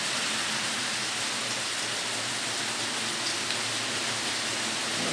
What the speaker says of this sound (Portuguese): Uma chuva passageira, mas do jeito que ela começou,